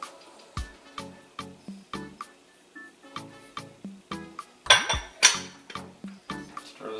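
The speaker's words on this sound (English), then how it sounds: "As I'm incorporating it, I'm going to dump in my turkey." Chunks of turkey tumble into a pot of curry with wet clinks and thuds, followed by a steady rhythm of spoon scrapes and knocks against the pot, close and clear, with a louder splashy clatter midway.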